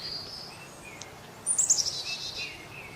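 A painted bunting gives a brief burst of high, quick chirping notes lasting about a second, clear but modest in volume over a faint outdoor hush.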